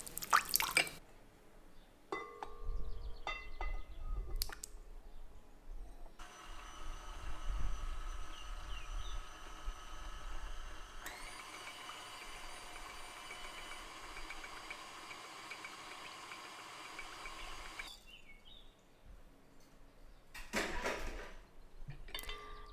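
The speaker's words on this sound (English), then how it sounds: "I'm going to mix this on low speed until it's combined" A stand mixer churns cinnamon roll dough of brown sugar, vanilla, eggs and yeast mixture on low speed, giving a steady motor whir for about twelve seconds in the middle, with bowl clatter and handling noise before and after.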